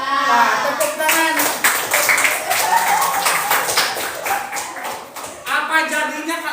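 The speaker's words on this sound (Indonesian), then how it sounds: "Tepuk tangan." Classroom clapping from a group of pupils, bursts of hand claps in uneven rhythm, close and fairly loud, mixed with children's voices and chatter.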